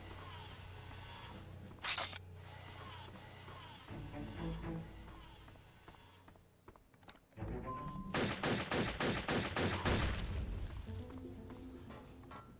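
Hit-scan weapon fire in the Turok 3 video game: loud bursts of rapid shots and booming blasts come in clusters separated by quieter stretches, with a dense sustained volley near the end.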